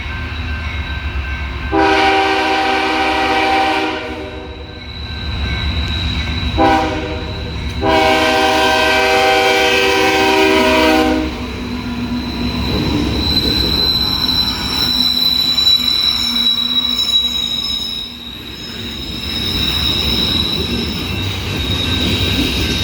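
A freight train of coal hopper cars rolls past loudly, with two long horn blasts near the start, then steady rumbling wheels and squealing rails as the cars keep passing.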